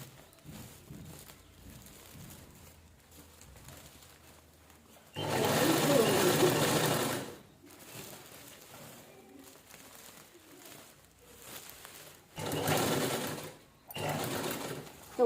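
A sewing machine stitches a cloth cover made from an old saree, running in loud close bursts of about two seconds each, separated by quieter stretches of room noise.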